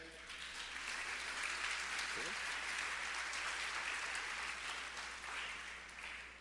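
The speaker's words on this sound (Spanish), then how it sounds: "Démosle un aplauso a ella." Members of a church congregation applaud steadily, a broad, even patter of many hands heard at a distance and fairly faint, holding for several seconds with a brief voice underneath.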